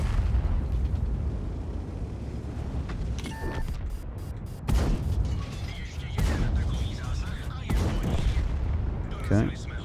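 Tank gunfire and explosions in the World of Tanks video game, with several sharp booms over a constant rumbling battle background and a voice talking briefly.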